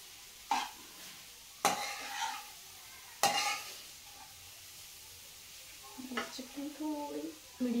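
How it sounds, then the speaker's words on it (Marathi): Food frying in ghee and stirred in a pan, three sharp scraping stirs with sizzling between, then busier clatter near the end, close, with a voice speaking at moments. "परतून घेऊ आपण याला व्यवस्थित. थोडं अजून तूप घालणार आहे."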